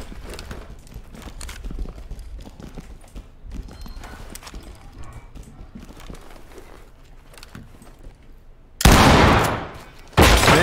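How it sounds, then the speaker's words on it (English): In the police tactical game Ready Or Not, a shotgun blasts a door lock and flashbangs go off: clattering movement leads into a sudden, very loud, sustained burst near the end that cuts off abruptly. "Shotgun. Blow the lock. Deploy flashbangs and clear."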